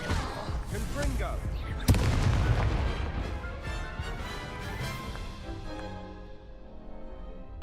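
A Confringo fire spell blasts in the Hogwarts Legacy wizard game, a sharp explosive crack followed by a rumbling, crackling boom that slowly fades away amid battle noise.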